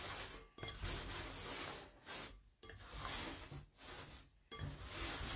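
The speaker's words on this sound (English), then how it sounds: "Just scraping it all up in there." Sourdough dough being scraped up from the sides of a bowl and pushed into a ball, with soft rubbing, rasping scrapes broken by short pauses, close and fairly quiet.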